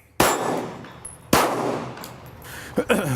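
Two loud gunshots at an outdoor gun range, each sharp report followed by a long ringing decay, with a quieter metallic ping from a steel plate target near the end.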